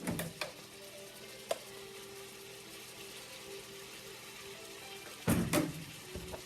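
Food frying in oil in a pan, a faint steady sizzle with a few sharp clatters and a burst of stirring noise near the end.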